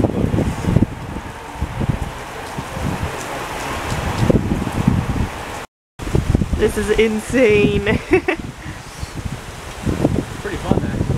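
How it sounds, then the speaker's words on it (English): Strong gusting wind roars across the microphone and rustles leaves as a storm with forecast hail moves in, loud and continuous, with a person speaking briefly over it. "It's very windy right now."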